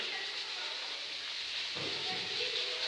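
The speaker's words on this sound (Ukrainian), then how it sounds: "Стало відчутно перші важкі краплини. Розпочалася гроза." Thunderstorm rain breaking over a windy forest, with the first heavy drops falling: a steady, dense hiss of rainfall that stays even and fairly loud throughout, with no voices.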